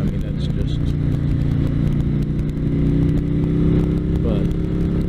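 A 2019 Harley-Davidson Electra Glide Police Edition motorcycle rumbles steadily while being ridden, its low engine drone and wind noise continuous and close under a rider talking throughout.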